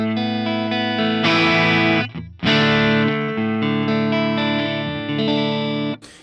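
Electric guitar played through an Axe Fx III modeling the Bludotone Ojai amp with slight breakup, sustained chords with a mild crunch, close and alone, cut by a brief pause midway.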